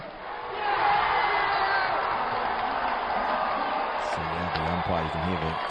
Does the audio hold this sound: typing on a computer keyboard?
no